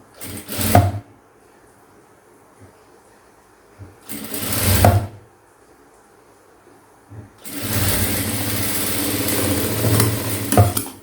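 A sewing machine stitches blouse fabric in three bursts: two short runs of about a second each separated by quiet pauses, then a longer steady whir of roughly three and a half seconds, close and clear.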